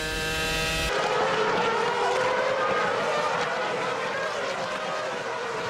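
Formula 1 race cars from the 2006 season at speed as Mark Webber passes a McLaren, a continuous loud engine roar with high-pitched whine sustained throughout, under crowd and track ambience.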